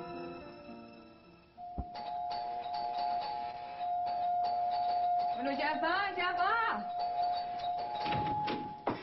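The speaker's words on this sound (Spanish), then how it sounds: "qué manera de tocar ese timbre" A doorbell rings repeatedly at a house, a long sustained chime with bursts of ringing, while someone speaks over it in a domestic scene.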